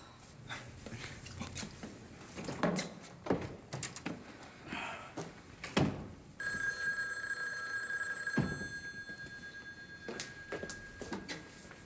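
An indoor telephone rings in a long continuous burst in the middle, preceded by scattered dog whimpers, bumps and faint movement.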